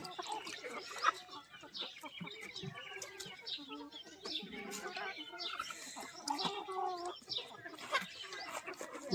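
Desi hens in a village flock cluck and murmur almost without pause, a busy chorus of short calls at middle distance, with a person talking now and then underneath.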